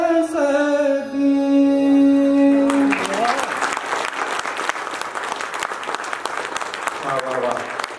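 Sustained singing at a concert held in memory of a father ends, and the audience breaks into loud, dense applause that fills the rest of the moment as the final note fades.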